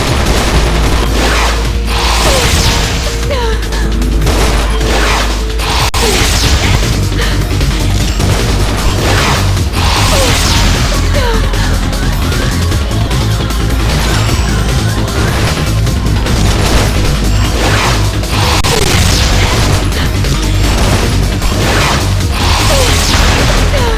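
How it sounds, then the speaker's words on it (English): Dense, continuous gunfire and explosions in the video game The 3rd Birthday, with loud overlapping bursts, booms and whooshing impacts sustained throughout without a break. "Get ready to fire at once!"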